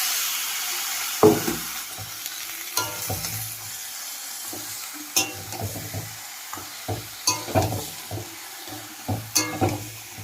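Goat meat sizzling and frying in a wok while being stirred, with intermittent scraping and clattering strokes of the spatula over a soft constant sizzle, close and fairly quiet.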